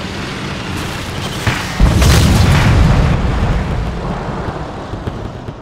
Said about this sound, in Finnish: Räjähti se saatanan tankki.